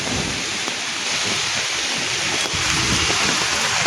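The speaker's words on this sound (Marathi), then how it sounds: "हे मुंबईची सिच्युएशन आहे पावसाची जोरदार" Heavy rain pours in a steady, dense hiss over the streets of Fort, Mumbai, filling the whole clip, loud and constant, with no voices.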